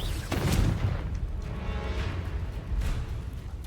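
Blasting-curse explosions in Hogwarts Legacy: a sharp blast near the start, then more booming bursts over a steady rumbling backdrop of fighting.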